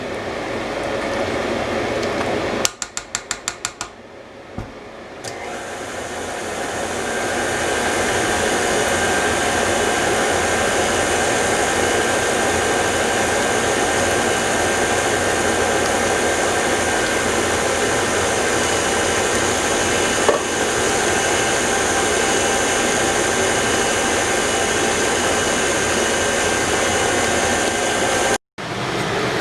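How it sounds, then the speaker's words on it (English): A loud, steady kitchen exhaust fan roars continuously, broadband and unchanging, after a few brief clicks and dropouts at the start. "I apologize for that exhaust fan."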